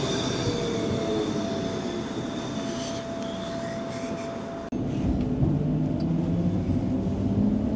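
Steady loud rumble of a moving tram running along city rails, with a faint high whine and a brief jolt partway through, heard from inside the car.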